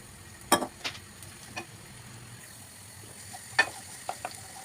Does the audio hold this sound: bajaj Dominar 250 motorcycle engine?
no